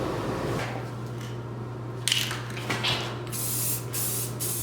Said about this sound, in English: So I'm going to put a satin spray on it.